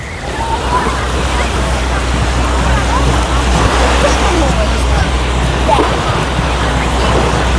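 Sea waves wash onto a crowded beach at Lanzheron in Odesa as a steady, loud surf rumble with wind noise, and faint voices murmur beneath.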